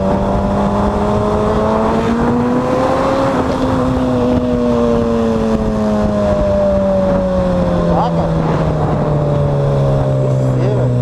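A Suzuki Hayabusa motorcycle engine drones loudly and slowly shifts pitch, rising then gradually falling as it pulls along, with steady strong noise throughout.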